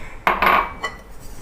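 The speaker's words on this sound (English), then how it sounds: "So just make sure you give it a good mix" Dry pancake ingredients being mixed in a bowl make a short scraping clatter of a utensil against the bowl, a burst near the start and another brief scrape after, close and fairly quiet.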